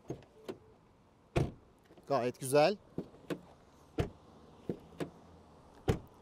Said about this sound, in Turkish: Bir de kapı sesini dinleteyim mi size?